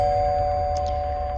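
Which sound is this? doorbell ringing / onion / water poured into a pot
doorbell ringing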